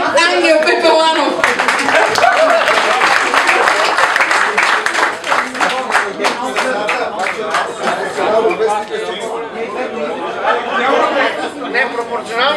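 A crowd at an awards ceremony claps and cheers in sustained, dense applause, with chatter and laughter mixed in as the clapping thins toward the end.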